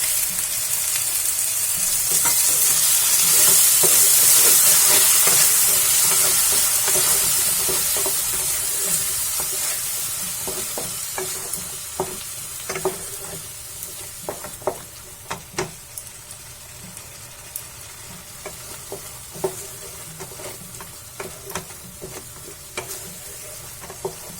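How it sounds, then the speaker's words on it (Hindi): Ground tomatoes and onion fry in a pan, opening with a loud bright sizzle that gradually softens, while sharp scraping clicks of a spoon against the pan recur through the second half. "अब इसमें हम 2 पिसे हुए टमाटर डालेंगे। इसे भी हम भून लेंगे।"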